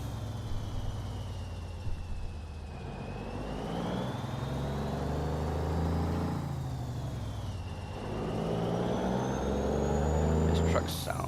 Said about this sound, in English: This truck sounds really good.